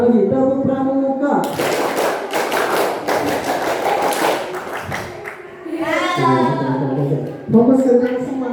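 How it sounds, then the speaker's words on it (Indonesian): Schoolchildren at an anti-bullying session doing the rhythmic scout clap, bursts of patterned hand claps with children's voices chanting along, loud and close in a room. "Tepuk pramuka"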